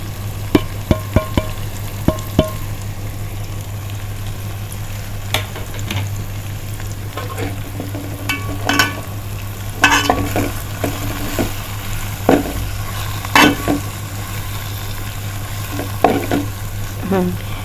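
Spice powders are stirred into frying sardine curry masala with onion, ginger, green chilli and tamarind, giving a continuous sizzle broken by scraping spoon strokes and clinks against the pan, close and steady, under a low hum.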